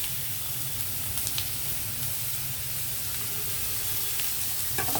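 Vegetables with ginger-garlic paste sizzle steadily in hot oil in a pan for veg paratha, a continuous close frying hiss with a few brief clicks from stirring, no talking.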